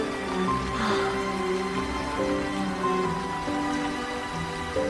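Steady rain falls outdoors as a soft continuous patter, fairly quiet, with no one speaking.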